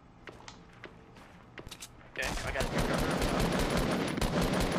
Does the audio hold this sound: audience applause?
no